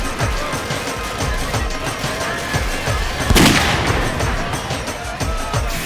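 A single sharp gunshot in a TV crime drama scene, fired from a store room during a wedding procession, cracking out loud at mid-clip over a steady background of dramatic music.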